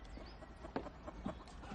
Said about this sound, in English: The chickens are coming in.